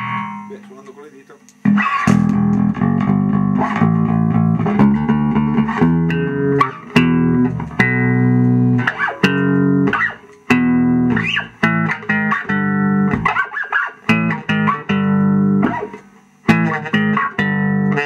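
An electric bass plucked with the fingers, playing a loud, busy line of deep notes with short gaps between phrases.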